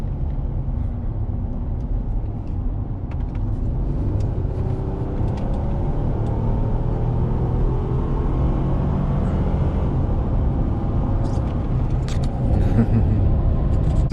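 A Ford F150 EcoBoost pickup pulls away hard at wide open throttle in too high a gear, a steady deep engine drone and rumble carrying through the whole stretch under occasional speech.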